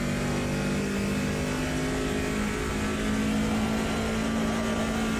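A high-powered race car in Automobilista 2 on the historic Nürburgring Nordschleife, a steady, loud engine roar holding under load as it accelerates.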